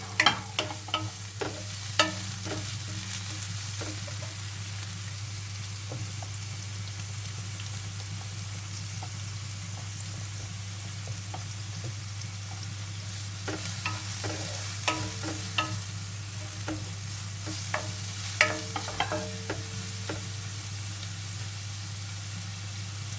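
Garlic frying in a pan for ginisang upo with sardines, a constant soft sizzle under clusters of sharp scraping and clinking as a utensil stirs, louder bursts of stirring near the start and again later on, with no voices.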